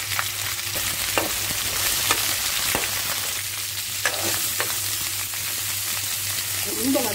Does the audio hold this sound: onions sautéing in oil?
yes